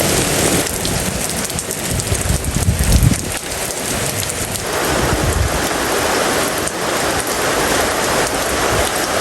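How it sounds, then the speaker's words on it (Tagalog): Heavy rain pours steadily, a dense hiss with a few deeper rumbling surges, no voices. "lumakas na po ang ulan"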